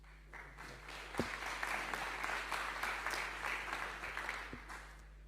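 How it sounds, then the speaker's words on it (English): Audience at a sports conference talk applauding, a faint, even patter of many hands clapping steadily over low room hum, with no voices. "Round of applause,"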